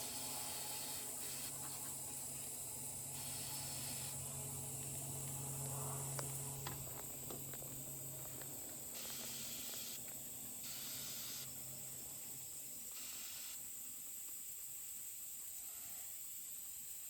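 Pledge furniture polish sprayed from an aerosol can during tractor maintenance, heard as steady hissing bursts of varying length, several in a row, with a constant background hum and no talk.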